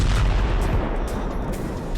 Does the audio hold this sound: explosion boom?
yes